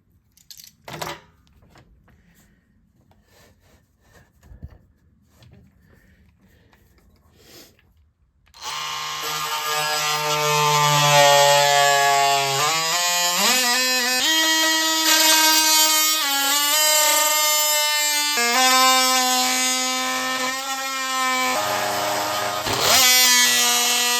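An oscillating multi-tool blade cuts material, starting after several seconds of quiet handling clicks, then a loud, high buzzing whine runs continuously for about fifteen seconds, its pitch dipping and shifting as the blade loads up.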